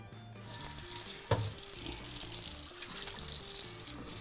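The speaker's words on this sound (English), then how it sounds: "put it in the sink, do a little soap and water, and finish out this cleaning" Water runs steadily from a faucet into a sink to wash a stainless steel pan, a continuous rushing hiss with one brief clatter near the start.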